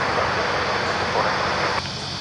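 A jet taking off from runway 16 right at Sydney Airport, a steady broadband engine roar that holds loud and even before dropping off slightly near the end, with faint voices underneath.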